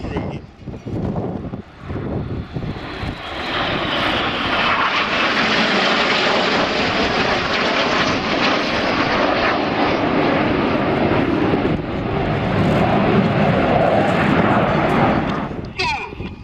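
Four display aircraft at the Old Warden flying festival sweep past at an air show. Their engines build to a sustained loud roar that holds and then fades, while a commentator talks over it.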